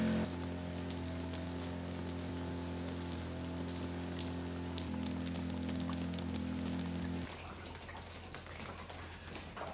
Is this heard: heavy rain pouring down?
yes